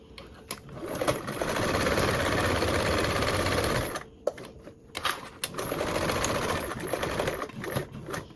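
Sewing machine basting around a fabric compact piece with a 1/8 inch seam allowance, steady close whirring runs broken by brief pauses and clicks as the stitching stops and restarts.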